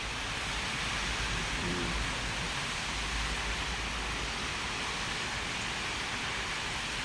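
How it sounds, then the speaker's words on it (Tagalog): Steady broadband roar of wind-driven rain in Italy, constant and enveloping with no gaps, fairly loud and close. "Umuulan, malakas ang hangin."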